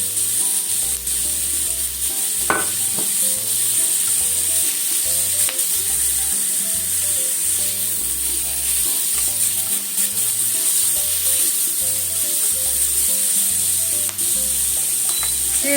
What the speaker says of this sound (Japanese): こちらでネギも炒めましょう。